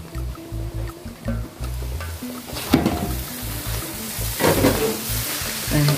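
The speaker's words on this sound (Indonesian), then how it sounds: "Masak terus sampai tahunya itu kering" Tofu sizzles and fries in a pan while being stirred until dry and golden, a continuous crackling hiss with occasional scraping stir sounds and rhythmic low knocks underneath.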